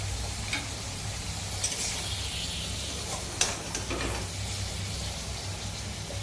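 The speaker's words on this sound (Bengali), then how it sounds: "ফুলকপি ভাজা হয়ে গেছে, আলুটা ভেজে নিচ্ছি।" Potatoes fry in a pan with a continuous soft sizzle and hiss over a low hum, broken by a few brief scraping clicks of a stirring utensil, with no one talking.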